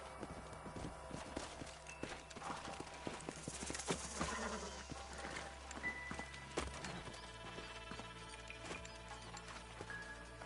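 Horse hooves clop unevenly at a walking pace in the video game Red Dead Redemption, fairly quiet, amid ambient background sounds and an occasional horse snort.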